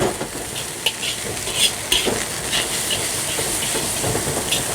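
Nasi goreng fried rice with spring onion greens being stir-fried in a hot pan, a loud continuous sizzle and hiss with repeated scraping and tossing strokes of the spatula, close and even throughout.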